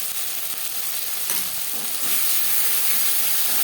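Ginger and green chili paste frying with tomatoes in a pan, a steady hissing sizzle that swells slightly louder partway through, with no talking.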